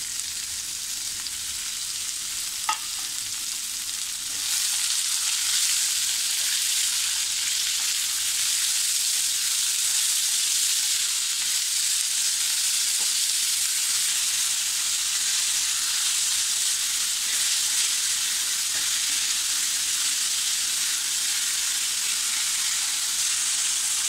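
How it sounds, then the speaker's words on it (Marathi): Finely chopped onion frying in oil for dhaba-style paneer masala, a steady, dense sizzle that holds close and even throughout, growing slightly louder after a few seconds, with faint stirring clicks and no talk. "याला आपण एकदम फ्राय करून त्याला अगदी तेलात विरघळून घ्यायचं आहे"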